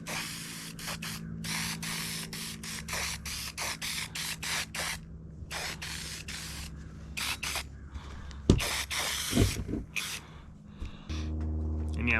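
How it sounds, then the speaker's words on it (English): Repeated short bursts of hissing gun-cleaner spray onto SKS rifle parts, close up, in quick succession with brief pauses, followed by some handling clatter and a low hum. "I just use my shotgun cleaner. I take this and I spray every part down."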